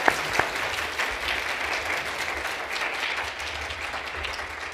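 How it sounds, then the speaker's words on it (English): Audience applause for a conference panel session, steady dense clapping from a crowd throughout, moderately loud with a couple of sharper claps at the start. "Can I have a round of applause for the panel,"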